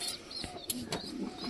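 A domestic pigeon in a coop gives a few soft, low coos, faint and close by, against a quiet background.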